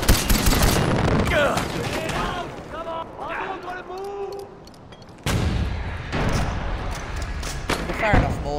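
Mortar and gunfire bursts in the video game Far Cry 4, a dense run of booms and shots through most of the stretch, with a louder burst of fire after a brief lull, under intermittent talk.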